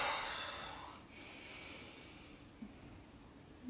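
Deep, slow breathing during a yoga exercise for warming up the feet, heard as one long soft exhale fading away, then a brief faint snort-like intake, close and quiet with no talk.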